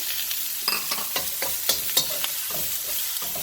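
Beef and broccoli stir fry cooks in a pan, giving a steady sizzle broken by sharp scraping and clacking stirs at irregular intervals, close and fairly loud, with no voices.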